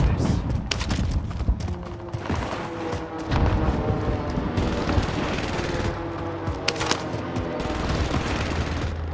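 Rapid bursts of automatic gunfire crackle through a squad video game match, sharp clustered shots over steady background noise, with players talking over the action.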